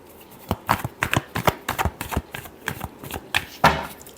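Tarot cards riffled and shuffled by hand in a quick run of crisp, close slaps and flutters, with a louder burst near the end and no voices.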